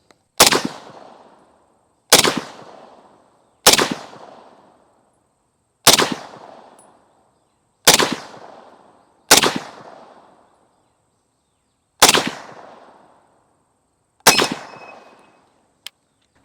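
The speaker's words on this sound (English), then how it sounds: "a course of fire from the 1943 M1 Garand manual" An M1 Garand rifle fires a course of fire from the 1943 manual with surplus ammunition: eight sharp, loud shots, each with a short ringing decay, spaced one and a half to two seconds apart.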